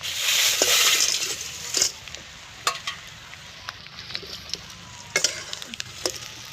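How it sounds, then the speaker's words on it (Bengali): Fried ingredients tipped into a hot pan while cooking Wai Wai noodles. A loud burst of sizzling comes first, then it settles to a quieter crackle broken by several sharp clacks of utensils against the pan. "এগুলো ভাজা হয়ে গেছে, আমরা এখন এগুলো দিয়ে দেবো সব এক এক করে"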